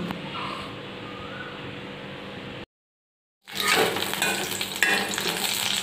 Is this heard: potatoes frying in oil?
yes